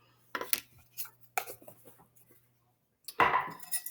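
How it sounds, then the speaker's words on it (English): Dry baking ingredients, including baking powder, whisked in a bowl: quick scraping clinks in several short bursts, close and moderately loud, with a brief gap before a denser burst at the end. "So we're going to whisk those dry ingredients together."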